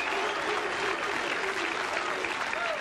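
Bowling crowd at a perfect-game attempt claps and cheers steadily, a dense wash of applause with a few shouts rising over it, fairly loud and close, while a voice talks underneath.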